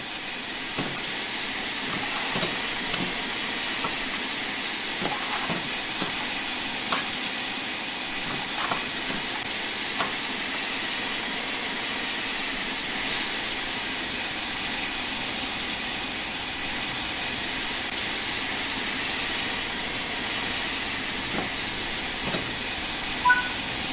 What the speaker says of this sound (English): the cylinder should have been blown clear by the steam jetting out of them